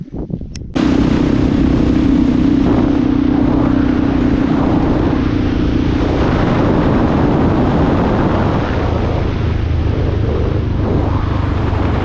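Aircraft flying overhead in a remote, open landscape, heard as a loud, sustained broadband roar with a steady low drone that fills the whole stretch after a brief quieter start.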